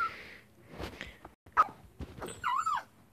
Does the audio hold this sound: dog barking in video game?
yes